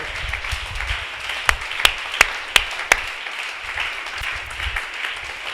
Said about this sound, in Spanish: Hermanos, un aplauso más grande al alfarero